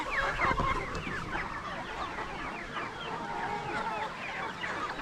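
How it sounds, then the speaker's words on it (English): A flock of farmyard chickens clucks and squawks excitedly while being fed, with many overlapping calls close to the microphone and a low rustle of movement beneath them. "Out feeding these chickens. They're crazy."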